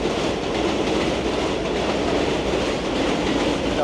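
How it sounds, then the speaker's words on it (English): A train rolls past at close range, a dense, steady rumble and rattle of railcars on track that stays loud and unbroken throughout, with no voices over it. "I love the trains."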